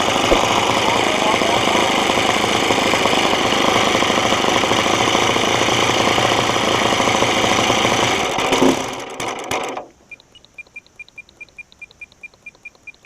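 A 50-plus-year-old RC model airplane engine on a Falcon 56 runs with a loud, buzzing roar for several seconds, then drops to a rough, sputtering idle with rhythmic pops.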